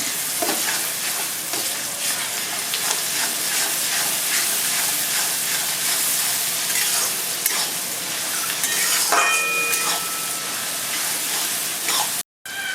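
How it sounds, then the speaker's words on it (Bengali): Garlic paste sizzles and hisses steadily in a hot pan for a mushroom curry, with periodic scraping strokes of stirring and a brief cutout near the end; no one speaks. "রসুন বাটা একটু ভেজে নেব রসুনের কাঁচা গন্ধটা যাতে না থাকে"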